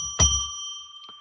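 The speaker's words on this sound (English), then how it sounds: "So let's ring that bell 3 times." A single bell rung once in a quiet room, its bright clang sustaining with steady ringing overtones, followed by a faint second tap near the end; no voices.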